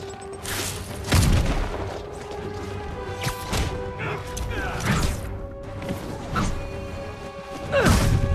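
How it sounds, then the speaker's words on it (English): A grenade explodes during a combat scene in Marvel's Spider-Man, with several heavy booms and crashing impacts over a steady background of game noise while voices talk between the hits. "Grenade incoming!"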